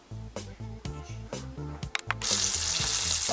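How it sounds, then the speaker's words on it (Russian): Chicken hearts coated in egg and flour frying in heated oil, a steady sizzle that swells loudly over the last second, with clanking and kitchen knocks earlier. "Яйцо, потом муку и жарим"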